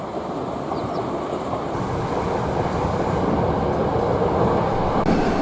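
A Hankyu Kobe Line train with cross-seat cars runs at speed near Kasugano-michi station, heard from inside as a loud, steady rumble of wheels and motors that swells slightly, with no talking.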